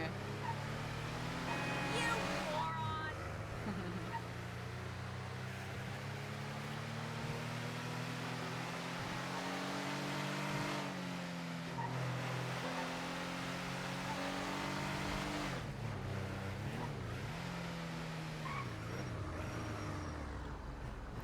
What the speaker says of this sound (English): This engine is wheezing.